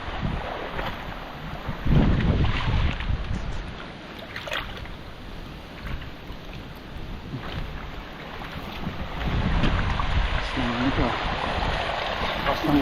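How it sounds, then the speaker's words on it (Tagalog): Strong wind roars and buffets the microphone continuously during a storm with heavy rain over a tomato field, gusting harder in places, with a watery rushing undertone throughout. "Hangin po ang dumali."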